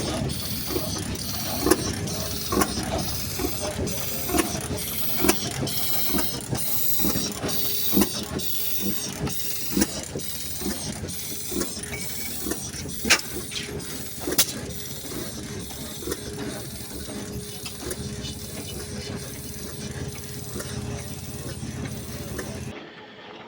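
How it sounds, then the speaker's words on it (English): Antique steam engines run at an annual antique steam tractor and engine show in Wellington, Ohio, with rhythmic mechanical clanks, ticks and hissing steam repeating through the clip amid outdoor crowd background. "enjoy a few clips from the show of the steam engines."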